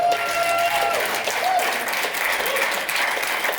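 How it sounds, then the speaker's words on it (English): Sustained audience applause, dense and close clapping at a steady level throughout, with a few short voices cutting through early on. "We have a round of applause for that."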